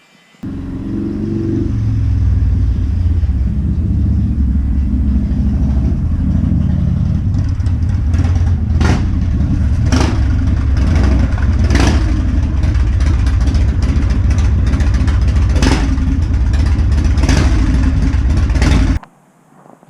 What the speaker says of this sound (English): let's get the engine warmed up